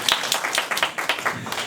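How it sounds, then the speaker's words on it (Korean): An audience at a Catholic Salesian cooperators' lecture claps briefly, a quick burst of close, uneven hand claps lasting under two seconds. "박수 한번 주세요."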